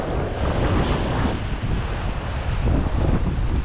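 Strong ocean waves crash continuously on the shore during an evening fishing session, a loud, dense roar mixed with heavy wind buffeting the microphone, with no voices.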